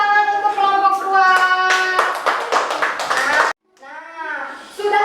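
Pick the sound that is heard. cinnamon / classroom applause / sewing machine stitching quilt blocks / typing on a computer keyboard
classroom applause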